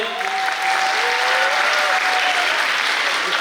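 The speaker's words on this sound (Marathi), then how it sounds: "जरा टाळ्या जोरात होऊ दे." Steady, dense applause from an audience at a Devang Samaj cultural festival stage event in Ichalkaranji, a continuous wash of many hands clapping at even loudness for several seconds.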